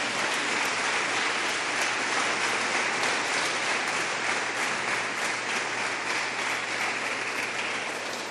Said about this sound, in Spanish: Si usted lo cree, dele fuertes palmas al Señor.